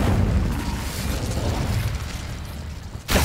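Incendio fire spell cast in Hogwarts Legacy, a broad roaring whoosh of flame that sustains and fades, then a sharp new burst right at the end.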